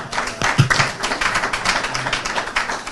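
An audience at an institute of business diplomacy investiture and induction ceremony claps for an honoree, many hands beating in a steady, close, fairly loud round of applause for about three seconds.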